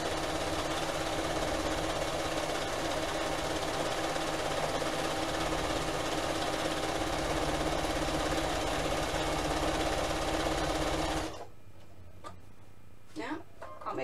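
A sewing machine stitches a quilt in a fast, steady mechanical chatter, close and continuous for about eleven seconds before stopping abruptly, followed by a few faint handling sounds.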